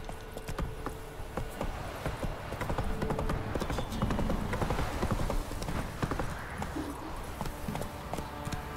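Roach, Geralt's horse in The Witcher, trotting with a brisk, steady stream of crisp hoof clops close by over a busy ambient bed, continuing throughout with no speech.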